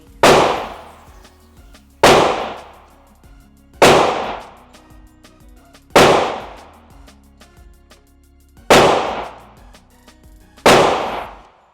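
Six sharp, loud pistol shots from a Springfield Prodigy fired at a range, spaced roughly two seconds apart, each crack followed by a short decaying ring with no talking.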